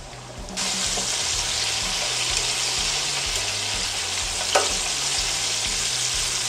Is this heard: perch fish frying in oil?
yes